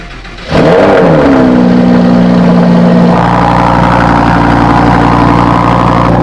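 A Lamborghini Huracan starts up with a sudden loud bark, then settles into a steady, rumbling idle that lifts slightly in pitch partway through, all close by with no talking.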